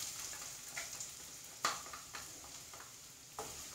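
Sliced onion dropped into hot coconut oil, a quiet, steady sizzle with a few sharp clicks and scrapes of a spoon in the pan, close and faint, with no voices.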